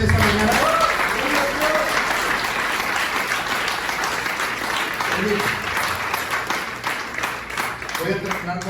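A church congregation claps loudly and steadily through a Spanish-language Sunday morning service, the dense applause holding for several seconds with a few voices rising over it.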